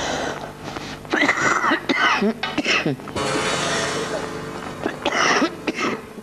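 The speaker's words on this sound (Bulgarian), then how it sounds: "Кашлицата вече става мъчителна не само за водещата, но и за зрителите." A woman performing in a one-woman stage show coughs and clears her throat several times in close, harsh bursts, with a raspy, wheezy quality between them.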